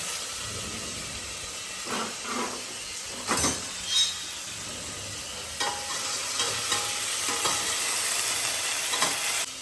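Tomatoes hit a hot pan and are stirred with a ladle, a steady sizzle and hiss broken by a few scraping ladle strokes, close up with no one speaking.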